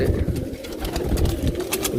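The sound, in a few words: pigeons cooing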